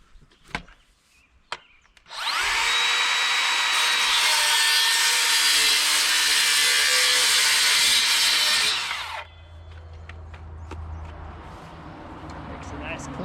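A cordless saw cuts through electrical conduit, a loud, sustained whining rasp lasting about seven seconds up close, preceded and followed by quiet handling clatter.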